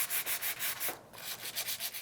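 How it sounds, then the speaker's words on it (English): Sandpaper of 180 grit rubs back and forth over a black window frame to smooth out a scratch. The strokes are rhythmic and rasping, close and steady, with a brief pause midway and no speech. "You'll take your 180 grit sandpaper and sand not only where the scratch is, but the surrounding area"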